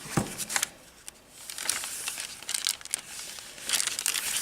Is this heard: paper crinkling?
yes